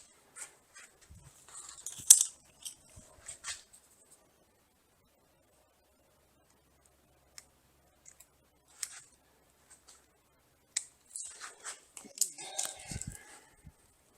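Scissors snip through door edge protection film being cut to length for a new 2025 Honda Ridgeline, coming as short, close clusters of cuts separated by quiet pauses.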